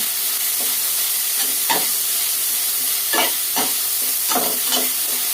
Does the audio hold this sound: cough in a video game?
no